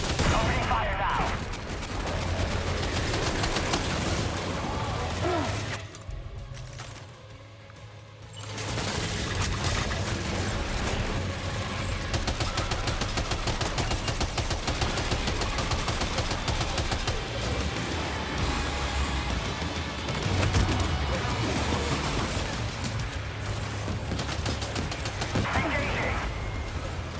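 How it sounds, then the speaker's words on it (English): Sustained gunfire rattles through a Death Stranding 2 battle, dense overlapping bursts of shots with brief lulls, loud and continuous for the whole stretch, with game voices mixed in. "Opening fire now."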